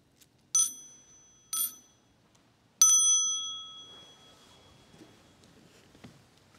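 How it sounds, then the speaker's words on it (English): A small hand bell at an evening meditation session gives three clear rings in an otherwise quiet room, with two short strikes followed by a longer one that rings on and slowly fades. "when we hear the sound of the small hand bell, we will stand up."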